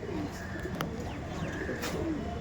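Punjabi Malbai pigeons coo in soft repeated rolling calls close by, a few overlapping phrases over a steady background hum, with no speech.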